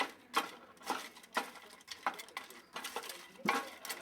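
Frozen peas being stirred in olive oil with a wooden spoon in a pan, giving a series of close clacks and scrapes about every half second, with no talking.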